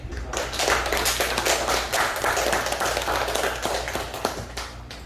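Church congregation clapping in welcome for a visiting missionary preacher, a dense, close burst of applause sustained throughout and fading slightly at the end.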